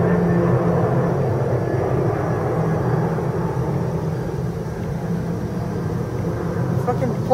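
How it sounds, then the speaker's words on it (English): A plane passes overhead with a steady, loud, broad low rumble that holds for the whole stretch, recorded outdoors on a camcorder with some handling noise. "Every minute and a half, there's a plane going on overhead"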